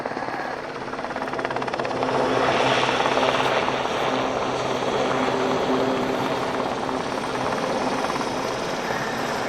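Westland Sea King AEW2 helicopter at the Yeovilton Air Day display, its rotor and turbine roar loud and continuous, swelling after a couple of seconds and holding steady, with no voices over it.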